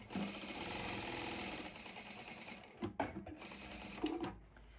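Sewing machine stitching binding onto a quilt, its rapid needle rhythm running steadily close by, then stopping, followed by a few clicks and handling sounds.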